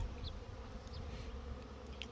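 Honey bees buzzing around a hive in an apiary, a steady low hum close by with a few bees zipping past, no voices.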